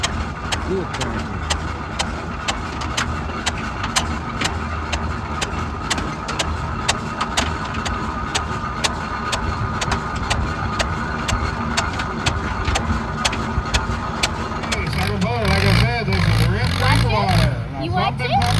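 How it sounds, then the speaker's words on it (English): An Allis Chalmers tractor engine runs steadily at a steam show, a continuous low rumble with crowd chatter and voices over it throughout, the tone shifting near the end. "Cool tractor."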